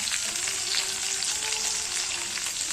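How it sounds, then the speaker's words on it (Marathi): Onion tossed into hot oil in a pan fries with a dense, even sizzle throughout, close and steady with no voices. "आता कांदा टाकायचा आहे त्याच्यामध्ये"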